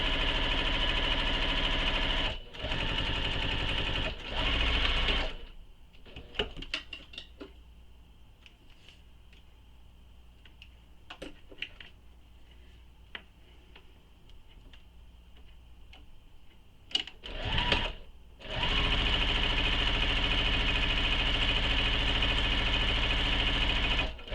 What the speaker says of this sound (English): then I'm just going to top stitch the whole length